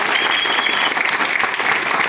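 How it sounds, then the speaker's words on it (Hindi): Loud, dense clapping from an audience at a business gathering in India, saluting sponsor and upline Vijay Kumar Pandey; the ovation stays steady and close through the whole short stretch, with no voices over it. "हम चाहेंगे उनके लिए भी एक जबरदस्त ताली होनी चाहिए।"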